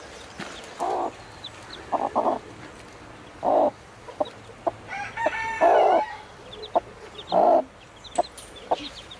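A hen with her chicks under a shed gives a series of loud, close clucks in irregular bursts, with short quiet gaps between them.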